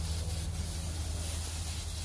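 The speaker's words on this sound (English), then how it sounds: "Put some spray on this." Cooking spray hisses from a can onto a cooking surface in a steady, continuous spray lasting about two seconds, close and fairly quiet, with no talking.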